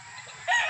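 A rooster crows loudly and close on a gamefowl farm in the evening, the call rising sharply after a brief stretch of softer clucking from nearby fowl.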